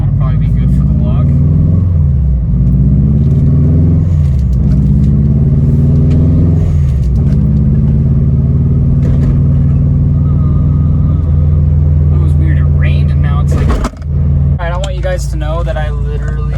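A Subaru STI Forester's engine rumbles loudly as it decelerates downhill, with steady low drone and repeated falling pitch sweeps, close and continuous, a brief dip near the end.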